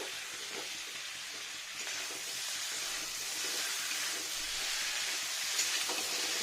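Rui fish frying in hot oil, giving a steady, dense sizzle and hiss that continues without break at close range, with no talking.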